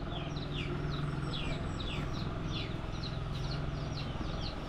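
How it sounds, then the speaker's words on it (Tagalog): Chickens cluck and call repeatedly over a steady background hum, with a stream of short, scratchy calls at moderate distance. "Manok."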